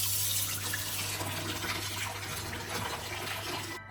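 Cold tap water runs steadily into a sink to rinse meat for a Christmas dinner, a continuous close splashing hiss with no talk, cutting off at the very end.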